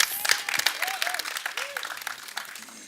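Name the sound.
audience applause for a director at a show launch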